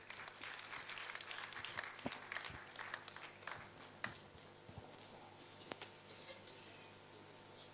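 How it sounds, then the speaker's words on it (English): Applause at a formal opening event, a steady patter of many hands clapping in a room for several seconds, fairly faint and recorded at a distance, with no talking. "Let's appreciate him with our applause."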